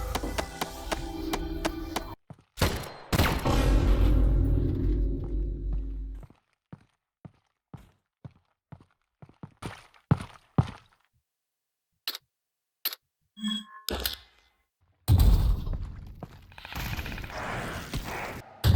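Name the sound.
big explosion in video game Half-Life: Alyx custom map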